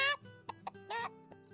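A person vocally imitates a chicken clucking, producing a few short throaty clucks and a longer squawk, close and fairly soft, with no other talk.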